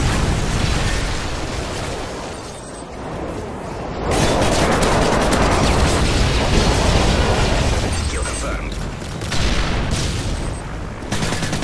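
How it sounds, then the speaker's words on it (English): A Predator missile strike in Modern Warfare 3 on the Arkaden map erupts in dense, loud explosions and surrounding gunfire, a sustained roaring burst of blasts that swells, dips briefly, then surges again. "Friendly Predator missile inbound."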